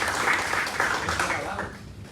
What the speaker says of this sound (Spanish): yo le voy a pedir un aplauso para Cristian,